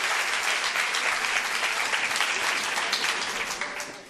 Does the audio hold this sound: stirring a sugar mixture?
no